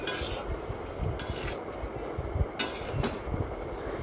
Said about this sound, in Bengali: দিয়ে আবার ভালো করে নাড়াচাড়া করতে হবে